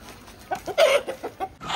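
A chicken bought live for a picnic clucks in a short run of separate, fairly close calls, one slightly louder in the middle, with no talk over it.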